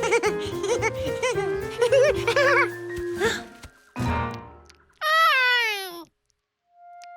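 A strange cat in a Curious George cartoon meows loudly and alone in a rising, wavering cry near the end, after a stretch of bright musical score and cartoon sounds.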